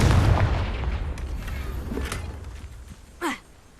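The Confringo blasting spell in the Hogwarts Legacy video game goes off as a heavy boom that rolls away over a few seconds, followed by a short whooshing burst near the end.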